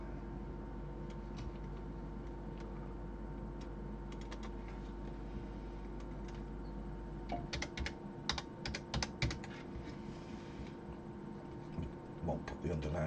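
Keys tapped on a computer keyboard in short scattered bursts, faint and fairly close, over a steady low background hum with light speech present.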